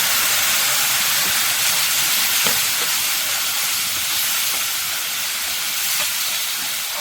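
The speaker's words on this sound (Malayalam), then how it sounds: "ഇതിലേക്ക് നമ്മുടെ പുളിവെള്ളം ഒഴിച്ചു കൊടുക്കാം." Tamarind water poured into a hot pan while cooking a gooseberry side dish, giving a loud, steady, broadband sizzling hiss that holds for the whole stretch with no talk over it.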